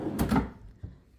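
A drawer in a resort hotel room at Universal Studios Florida slides with a short wooden rumble and then a faint soft knock as it stops, heard close and alone.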